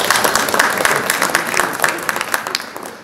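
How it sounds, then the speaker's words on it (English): Audience at a university alumni association's tenth anniversary event applauding, a dense burst of many hands clapping that holds steady and then tapers off toward the end. "thank you, you can clap"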